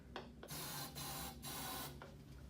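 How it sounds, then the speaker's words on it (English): Hairspray hisses from an aerosol can into a bottle in three short bursts, each a steady close spray lasting under half a second with small gaps between. "we're going to spray 3 times with the hairspray and then quickly cap"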